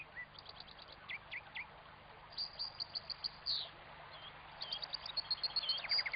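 Young goldfinches chirp in small flocks while searching for seeds: quick, high twittering calls come in scattered bursts, faint and somewhat distant, over a soft insect-like background hum.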